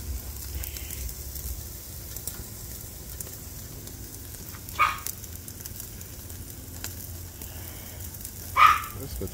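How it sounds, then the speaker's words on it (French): A small dog barks twice, short and sharp, several seconds apart, over a soft steady sizzle of steak grilling on a barbecue. "On entend mon petit chien qui en veut"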